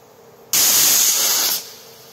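A pressure cooker cooking mixed dal lets out a single loud, close burst of hissing steam lasting about a second, sharp at the start and then tapering off into a quieter background.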